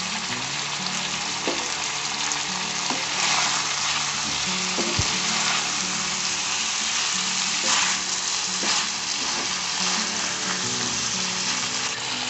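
Chilli chicken with curry leaves sizzles and fries steadily in a pan, a loud continuous crackle with occasional stirring knocks and scrapes throughout, no voices.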